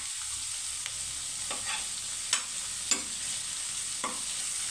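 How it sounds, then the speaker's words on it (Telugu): Onions frying in a pan for hotel-style puri kurma sizzle with a soft, even hiss, punctuated by several crisp spatula taps and scrapes as they are stirred. "చూడండి, ఇట్లా ఒకసారి అయితే కలుపుకున్నాము."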